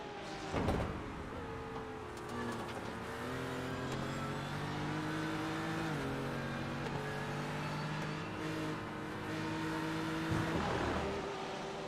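Porsche race car engine in a sim racing video game, a continuous strained drone whose pitch climbs and drops through gear changes, holding at a steady mid level for the whole stretch.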